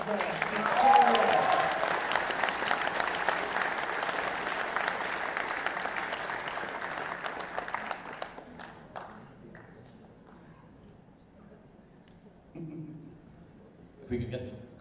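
An audience at a fursuit dance competition in a convention hall claps in a broad sustained wave that tapers off after several seconds, leaving a quieter room where an announcer speaks over the PA.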